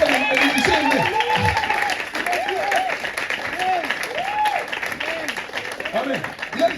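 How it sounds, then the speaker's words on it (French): A church congregation applauds and cheers during a Sunday service, a dense sustained clapping wash under a loud voice that speaks and sings with rising inflections across the whole stretch. "Acclamons le Seigneur."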